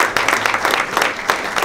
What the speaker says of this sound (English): That's a great reason for applause.